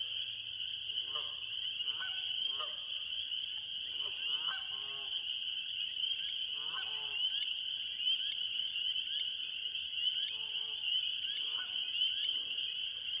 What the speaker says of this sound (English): The peepers will sing for a few weeks. Chorus frogs will sing for a couple of weeks.